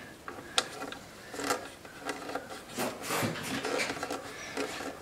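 A wooden fiddle tuning peg rubs and turns in its peg hole during fitting, giving a series of dry, close scraping strokes in an uneven rhythm with no talk.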